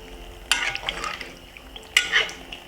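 A spoon stirs a pot on a stovetop, two distinct scraping clatters about a second and a half apart, close and fairly quiet with little else around.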